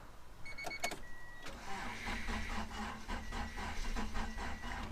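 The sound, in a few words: 1990 Honda Accord engine cranking, trying to start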